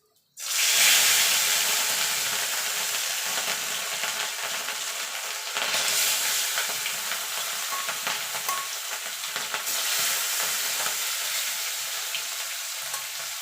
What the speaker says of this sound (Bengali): এবার মাছগুলো আমি এপিট ওপিট করে লাল লাল করে ভেজে নেব।